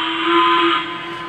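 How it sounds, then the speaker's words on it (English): The steam whistle of a Y-3 2-8-8-2 locomotive gives a single loud, sustained, hissing blast, steady and close, then eases slightly in volume near the end. "I'm going to go ahead and blow the whistle so you can hear the difference in the overall volume of the whistle."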